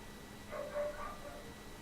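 A dog in an animated horror film yips and barks briefly, two or three short, fairly faint calls over a low background hum.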